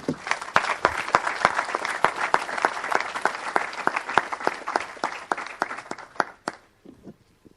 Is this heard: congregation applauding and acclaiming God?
yes